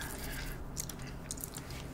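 Quiet, close crunching bites of crispy old-style Korean fried chicken, a few crackly chews scattered over a soft background hiss.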